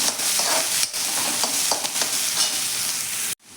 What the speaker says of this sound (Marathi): कांदा आपल्याला 1 मिनिटभर छान असा भाजून घ्यायचा आहे तेलावरती छान असा।